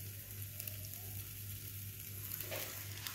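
French toast frying on a hot tawa gives a steady, low-level sizzle that runs without a break, with faint crackles on top and no talking.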